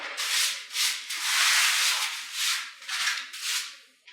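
Sanding carved spray foam on a cosplay staff, a series of close, loud rhythmic rasping strokes, each swelling and fading, with brief pauses between them.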